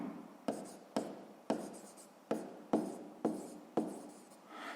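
Pen or pencil writing on paper during a sixth-grade maths exercise, close and fairly quiet, with about eight short scratchy strokes arriving in quick bursts and no talking.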